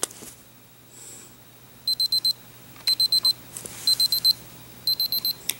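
Greentisory digital kitchen timer with magnet clip sounding its alarm: four bursts of rapid high-pitched beeps, each a tight group of about four electronic pips, evenly spaced about a second apart, moderately loud and close with no talk.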